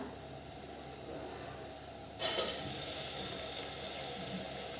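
Green moong and potato drop into hot oil for a Maharashtrian curry, and a low simmer suddenly jumps into a bright, steady sizzle that carries on close and moderately loud.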